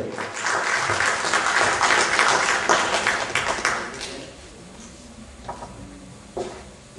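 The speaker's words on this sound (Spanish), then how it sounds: "Recibamos con un fuerte aplauso" An audience at an evening labour-law lecture breaks into loud, sustained applause for a speaker, dense clapping for about four seconds before fading to a few scattered claps and room noise.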